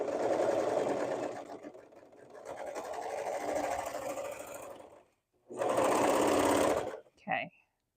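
A sewing machine bastes a seam on an Emmy bra, running in two loud bursts separated by a short pause, with a brief fainter stitch at the end, all close and steady.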